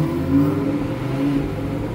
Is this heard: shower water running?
no